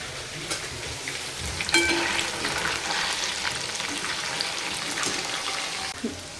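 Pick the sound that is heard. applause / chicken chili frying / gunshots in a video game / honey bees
chicken chili frying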